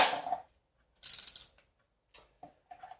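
A ratchet wrench with a 13 mm socket and small extension on an engine oil drain bolt clicks loudly in two close bursts, followed by a few softer scattered clicks.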